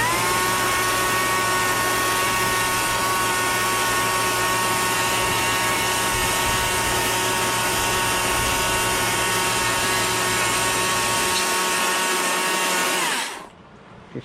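A chainsaw runs steadily at high revs while scraping and shaving a small, stringy log during wood spirit birdhouse carving, loud and close, then cuts off abruptly near the end.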